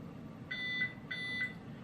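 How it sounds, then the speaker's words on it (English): Two short electronic beeps from a shooting par timer, high-pitched and steady, each lasting about a third of a second, separated by a brief pause over faint background hiss. "most par timers, the little beep that goes on, it sounds like this"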